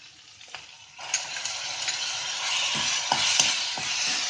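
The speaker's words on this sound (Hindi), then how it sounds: "अब इसमें डाल देंगे लहसुन अदरक का पेस्ट। इसको थोड़ा सा चलाएंगे, हल्का सा इसको भूनने दें।" Garlic ginger paste hits hot oil for a Himachali pathrode sabji and keeps frying while it is stirred. After a few faint taps, a loud hiss bursts in and holds steady, with occasional scrape knocks from the spoon, near and without speech.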